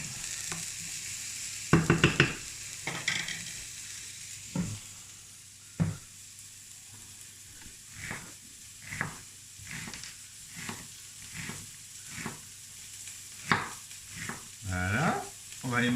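Carrots and onions brown in a hot pan, a soft steady sizzle beneath repeated scraping stirs from a utensil, some clusters of clinks early on, close and moderate, with no talk heard.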